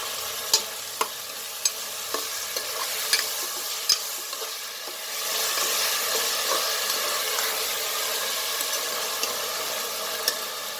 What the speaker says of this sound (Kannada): ಚಾಪ್ ಟೊಮಾಟೊ ಅದು ಕೂಡ ಆ್ಯಡ್ ಮಾಡ್ತಾಯಿದ್ದೀನಿ. ಸ್ವಲ್ಪ ಫ್ರೈ ಮಾಡ್ಕೊಳ್ಳೋಣ.